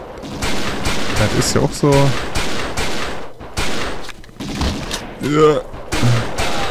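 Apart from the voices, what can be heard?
pistol gunfire in video game XIII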